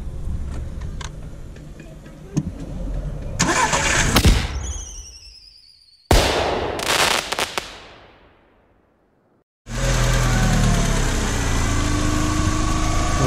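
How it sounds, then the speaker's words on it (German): A VW SEAT car engine being started twice, each a loud crank catching and settling. The first start cuts off, and after a brief silence the engine runs on at a steady, close idle. "Wir starten doch einfach mal den Karren und dann gucken wir mal, wie der läuft."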